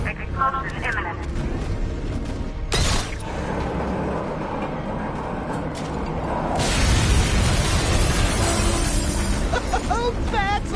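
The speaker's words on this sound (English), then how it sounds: "Explosion imminent." A big explosion at the Ace Chemicals plant in the video game Batman Arkham Knight, a loud sustained roar and rumble that swells in the second half, with voices talking over it.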